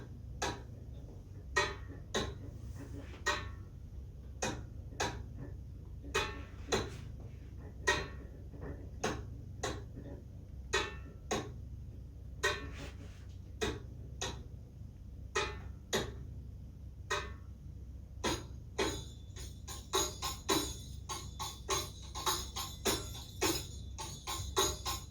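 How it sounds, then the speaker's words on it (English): Masmudi Kabir, an 8/4 rhythm, played on a percussion instrument: a steady loop of crisp, close strikes with deeper low hits beneath and denser rolls toward the end, with no voices. "Here is the Masmudi, aka Masmudi Kabir rhythm"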